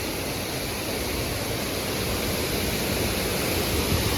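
Savadav waterfall in the Konkan near Kankavli during the rainy season, a steady broadband rush of falling water, loud and continuous throughout with no voices.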